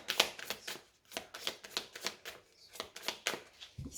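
A deck of oracle cards being cut and shuffled by hand, a run of quick papery riffles and flicks repeating in short bursts, close and fairly soft with no talking.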